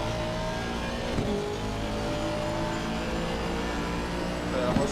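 GT race car engines in Assetto Corsa Competizione at a 24-hour Spa event, with a steady high-revving drone, gear-shift dips and cars passing, and a voice speaking over it.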